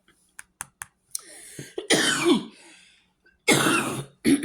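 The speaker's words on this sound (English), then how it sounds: "Excuse me for my cough." A few sharp clicks, then two harsh, throaty allergy coughs separated by a pause, close and loud, with another cough starting at the end.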